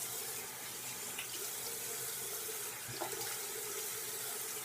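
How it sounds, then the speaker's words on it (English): Water runs from a bathroom sink tap while hands splash it onto a face, a steady faucet stream with a few soft splashes, near and alone. "I take my hands and I just splash water on my face real quick"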